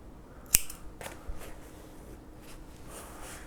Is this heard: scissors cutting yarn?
yes